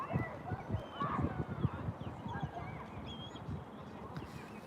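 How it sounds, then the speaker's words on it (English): Several sharp, high osprey calls ring out at a distance, repeating irregularly over a low, rumbling outdoor background on a canal in Nova Scotia. "You hear birds, those are the ospreys."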